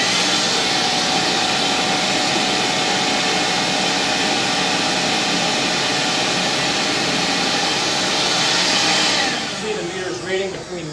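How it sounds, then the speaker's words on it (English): Vacuum switched on to simulate flow during a water dunk test of a Panaflow Z1G flow meter at an extreme angle, a loud continuous roaring hiss running steadily before easing off near the end. "I'll now turn on the vacuum to simulate flow again."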